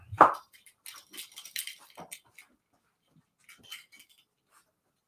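An old blind dog makes a burst of vocal noises, one sharp louder yelp-like sound at the start followed by scattered softer whimpers and snuffles with pauses between, close to the microphone.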